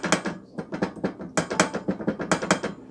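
Trumpet valves fitted with rubber bumpers are pressed repeatedly, making a quick series of close, sharp mechanical clacks in irregular bursts with brief gaps between them.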